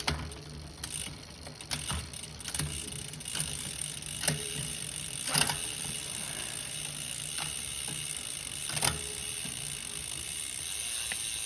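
A bicycle drivetrain clicks and ratchets as it shifts into the biggest rear gear, a string of sharp mechanical ticks and whirring over about eleven seconds, close and fairly quiet with no talk.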